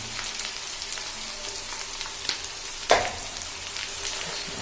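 Daal mash sizzles steadily in a hot pan, a close, even crackle of frying with scattered sharper pops and one louder spit near the end.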